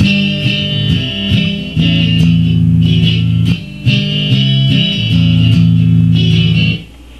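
An electric guitar strums chords clumsily, with strings left ringing and poorly muted, giving a loud, messy, buzzing wash that shifts between chord changes, with no talking.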